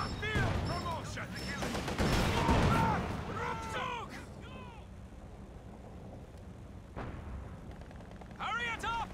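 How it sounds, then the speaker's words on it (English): Mortar fire in a Company of Heroes 4v4 battle on Hill 400: thumping shell launches and blasts mixed with scattered gunfire and bursts of battlefield chatter, dense at first and then thinning out. "they're showing me with actual mortars."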